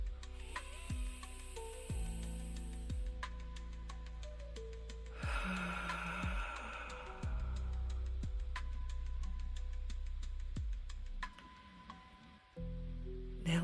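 A deep, breathy inhale during a guided breathing exercise, heard over soft, sustained tonal music with light ticking.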